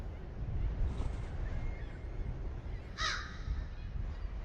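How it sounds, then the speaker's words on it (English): Single crow-like bird caw in a horror video game set at a lighthouse, one short harsh call midway over a low, rumbling ambient background. "Oh, a bird."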